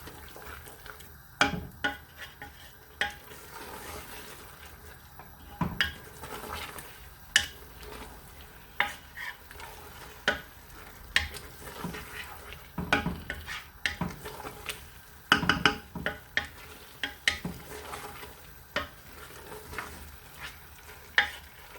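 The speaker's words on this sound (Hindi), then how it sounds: "इसको हम अच्छी तरह से इसको पकाएंगे दूध के साथ।" Spinach and meat curry simmering in a pan after milk is added, with stirring scrapes and soft sizzling bursts recurring every few seconds over a low bubbling background, close and moderately loud, no talking.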